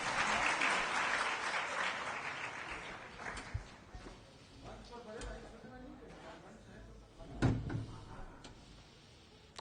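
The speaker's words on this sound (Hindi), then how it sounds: "माननीय मंत्री जी का ताली का गड़गड़ाहट से स्वागत है।" Thunderous audience applause welcoming a minister at a Christian community gathering in Bihar, a dense loud clatter that fades over the first few seconds into scattered claps, room noise and a few knocks.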